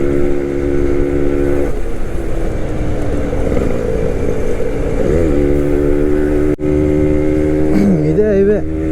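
Suzuki Max 100 motorcycle cruising in fourth gear on a highway, a steady low engine drone with wind rush, the rider talking over it, and the pitch wavering briefly near the end.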